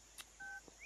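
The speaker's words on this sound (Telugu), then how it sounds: "ఒక్క నిమిషం సార్, నేను మళ్ళీ ఫోన్ చేస్తాను, పెట్టేసి." A single short telephone keypad tone beeps faintly at mid-pitch, framed by a couple of soft clicks in a quiet room, with no talk.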